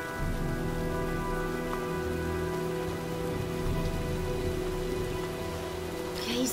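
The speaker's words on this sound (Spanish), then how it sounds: "parece que se avecina una tormenta" Rain falling in the video game Heavy Rain as a storm approaches, a steady dense patter on surfaces that continues unbroken, with low rumbling underneath.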